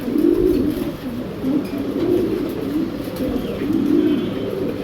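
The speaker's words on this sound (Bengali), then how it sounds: "কীভাবে ডাকতেছে কবুতরটা দেখেন।" A Pakistani pigeon coos nearby in a steady, throaty rolling pattern, with repeated low coo phrases rising and falling continuously and no talking.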